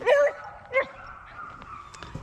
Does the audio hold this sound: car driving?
no